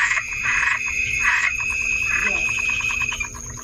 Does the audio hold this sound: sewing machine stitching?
no